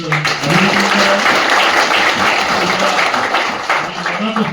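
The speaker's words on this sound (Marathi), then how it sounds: "एकदा मी तुमचं सर्वांच टाळ्या वाजवून मनापासून" Loud, sustained audience applause at a municipal gathering, a thick continuous roar of many hands clapping up close, while someone speaks over it.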